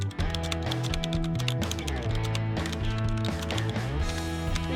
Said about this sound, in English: It has mixer-style media keys and features Roccat's Titan tactile mechanical switches.